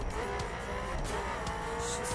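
A Ferrari driven in the racing video game The Crew gives a steady engine drone, with faint tire noise over a continuous mix.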